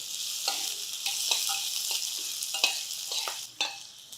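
Finely chopped half onion frying in a pan for ragi dhokla, a continuous sizzle broken by repeated scraping stirs of a spatula, close and clear.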